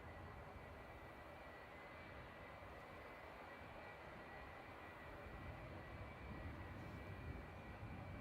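A Boeing 757 with Rolls-Royce RB211 engines at Manchester Airport gives a steady, distant jet engine roar that holds level and swells slightly toward the end, with no talk over it.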